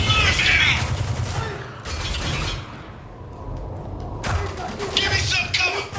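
Bursts of gunfire from the video game Spec Ops: The Line, dense rattling volleys at the start and end with a quieter, thinner stretch in the middle, loud and close, with combat shouting mixed in.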